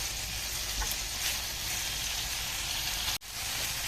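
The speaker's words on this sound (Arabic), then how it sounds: "غادي نخليهم يتشحروا مزيان حتى تهبط هذيك البصيله" Onion and garlic sizzle steadily in hot oil in a pan as the base for seafood paella, a continuous close frying hiss with one brief dropout near the end.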